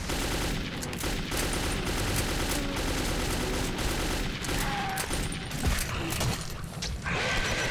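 Dense, continuous gunfire in the video game Metro 2033, with overlapping bursts and rattling shots at a steady high level throughout, no talk heard.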